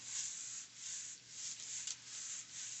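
Garlic rub is worked by hand onto the exposed meat side of a brisket, a soft continuous rubbing and scraping that swells and fades in short strokes, close and quiet.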